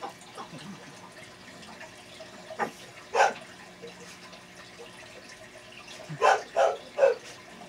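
A dog barks at a door in a few sharp bursts, one early and a quick cluster near the end, against a quiet background with faint running water.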